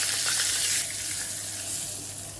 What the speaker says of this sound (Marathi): इथं आपण तूप घेतलं आहे, त्यामध्ये थोडीशी मोहरी तडतडली की जिरं आणि थोडासा हिंग